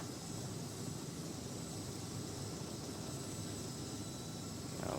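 An Alabeo R66 turbine helicopter coming in to land in the FSX flight simulator, a steady, faint turbine whine and rushing engine roar that holds constant throughout, with no voices.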